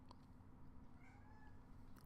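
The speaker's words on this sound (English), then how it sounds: "if you hear a meow, that's my cat" A pet cat meows a few times at low volume in a quiet indoor room, the short cries sitting faintly over steady background hiss.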